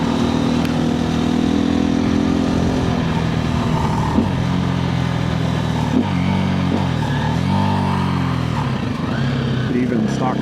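A 2024 KTM 350 EXC-F dirt bike ridden through the desert, its single-cylinder engine droning steadily with several rising revs and gear changes, loud and close.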